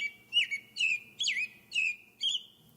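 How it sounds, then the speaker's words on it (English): An American robin sings a short series of about six clear, rising and falling whistled phrases at a steady pace, moderately close against a faint low background rumble. "The American robin lives in North America and sounds like this."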